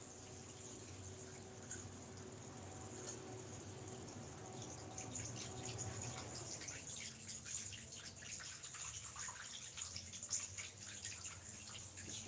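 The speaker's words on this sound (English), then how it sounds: "pour my water in" Water from the Barrington Blue Hole poured into a communion bowl during a water communion service, a soft continuous trickle and splash that thins out partway through, heard alone at low level.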